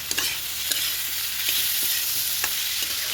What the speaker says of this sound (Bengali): রুটির লগে আলু ভাজা হইতাছে